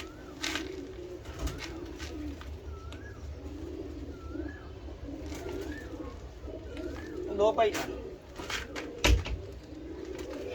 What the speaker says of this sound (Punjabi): ਕਬੂਤਰ ਬਹੁਤ ਅੱਛਾ ਕਬੂਤਰ ਹੈ